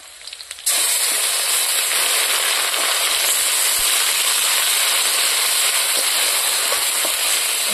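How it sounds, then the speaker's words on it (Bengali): Onion paste hits hot oil in a village-style chicken curry. A short quiet moment gives way to a sudden loud, sustained hissing sizzle that holds steady, close and without talk. "আমি এখন পেঁয়াজ বাটাটা দিয়ে দিলাম।"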